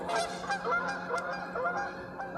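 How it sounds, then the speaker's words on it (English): Geese honk repeatedly and fairly loudly at a kayak on Lake Murray, the calls coming in quick bursts over steady outdoor background noise. "The goose aren't happy we're here."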